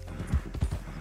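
A horse's hooves clip-clop in Red Dead Redemption 2, a few close, distinct thuds at a walking pace with a light background.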